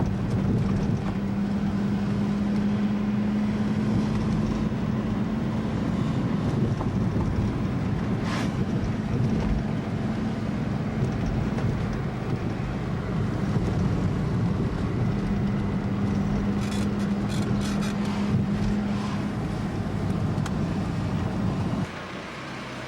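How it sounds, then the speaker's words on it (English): A train rolls past outdoors near Deblin as a steady, broad rumble that holds level for about twenty seconds, with a faint sustained hum partway through and brief clanks, then drops off at the end. "some sort of a train coming by."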